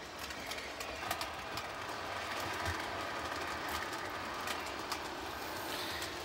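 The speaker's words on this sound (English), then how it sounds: "You hear little clicky noises, but that's just the rollers going over this funky little deal here" An American Flyer model train rolls over a track switch on a home layout, its rollers giving faint, scattered light clicks over a soft continuous rolling rumble, quiet and without talk.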